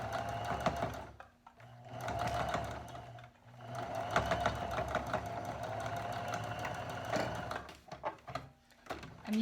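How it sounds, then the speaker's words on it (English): An electric sewing machine stitching down the sides of a two-layer fabric face mask with ties. Its steady, close whirring runs continuously, broken by a few brief pauses and restarts. "Now we need to stitch those sides down."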